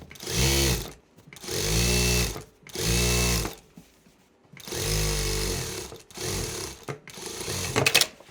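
A sewing machine stitches along the folded edge of a cloth shopping bag in five steady whirring runs of about one second each, separated by short pauses, close and clear with no talking.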